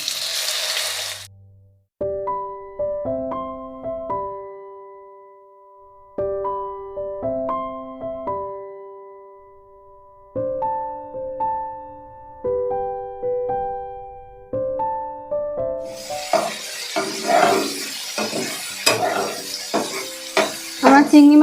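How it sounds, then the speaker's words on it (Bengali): Prawns going into hot oil in a pan for a Bengali kochupata chingri dish, a loud crackling sizzle that bursts in near the end after a long stretch of plucked tonal music. "এবার চিংড়ি মাছগুলো দিয়ে দেব।"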